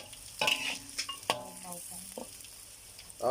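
Chilies hit a hot pan for Thai stir-fried basil and fry with a bright sizzle. Sharp spatula scrapes and knocks on the pan come in irregular bursts close by.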